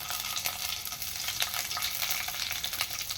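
Nigella seeds and garlic frying in a pan with steady crackling sizzle, punctuated by light stirring scrapes as slit green chilies go in; close and continuous, no talking.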